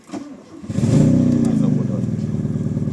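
A motorcycle engine starts and settles into a steady, loud idle after a short crank, heard close by.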